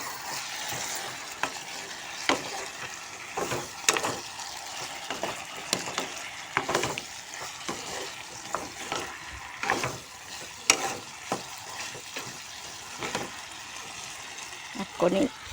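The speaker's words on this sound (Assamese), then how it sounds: "লৰাই দি ল'ম আৰু লৰাই মেলি দি লওঁ" Vegetables cooking in a pan being stirred, a low sizzle broken by repeated sharp scraping and clinking strokes at irregular intervals, close by.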